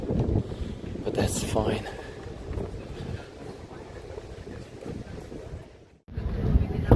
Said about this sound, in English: so a little bit windy